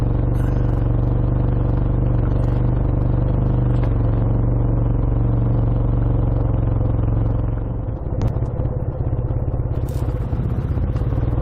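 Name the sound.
Austin A10 classic car driving on a country road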